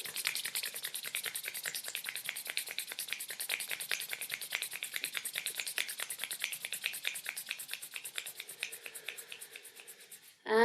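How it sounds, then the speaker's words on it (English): Palms rubbed briskly together in a guided energy exercise, a steady dense swishing friction repeated rapidly and evenly for about ten seconds before stopping, close and alone with no talk. "please rub your palms together"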